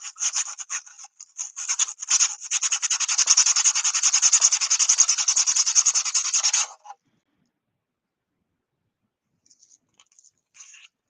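Sandpaper rubs rapidly back and forth over a 3D-printed part during priming work, a close, dense rasping scrub lasting several seconds, then silence before a few faint brief strokes.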